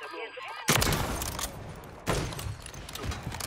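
Kar98 bolt-action rifle fire in an online shooter game: loud, sharp shots with a crack near the start and another about halfway, each trailing off into a noisy echoing tail, with a faint voice just before the first.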